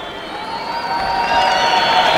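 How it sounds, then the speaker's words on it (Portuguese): German football fans in a stadium at a 1996 friendly against Portugal applaud as a substitution is made, a broad roar of crowd noise and clapping that swells over the brief stretch, with whistles and cheers above it. "E ouvem-se muitas palmas dos adeptos alemães"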